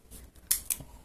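Scissors make two quick, crisp snips close by, cutting through a paper puppet in a quiet room.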